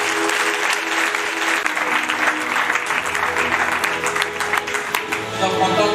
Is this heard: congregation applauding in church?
yes